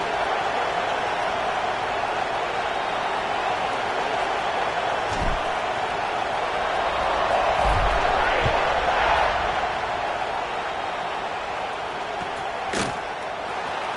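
A college football stadium crowd fills the air at kickoff in a steady, distant roar that swells slightly in the middle, with a few sharp thuds and bangs rising out of it.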